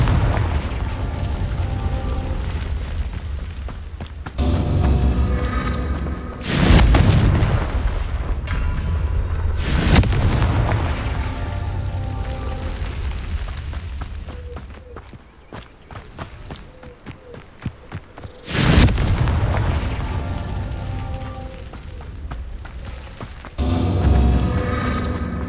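Confringo fire-blast spell explosions in Hogwarts Legacy, several loud booming bursts standing out over continuous game ambience and movement, with blasts arriving at intervals and one near the end.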